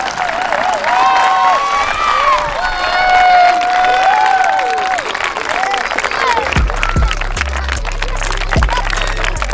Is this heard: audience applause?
yes